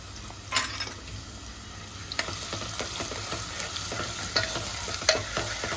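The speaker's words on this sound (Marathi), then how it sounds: "तेल तापलंय सो याच्यात टाकतो कांदा, बारीक कापलेला कांदा" Finely chopped onion hits hot oil in a pan and fries with a steady sizzle, while a spoon stirs and scrapes with sharp, irregular clatters; close and alone, with no talking.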